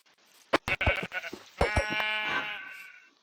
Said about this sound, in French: un premier mouton